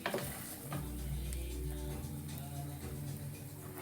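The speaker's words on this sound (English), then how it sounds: "make sure it's on a low heat, because it is frying" A soft, steady sizzle of food frying in a pan, with occasional light scraping and stirring sounds.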